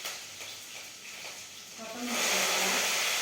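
Mustard seeds, cumin, chana dal and chillies sizzling in hot oil for tempering, a soft hiss that swells into a loud, steady frying crackle partway through.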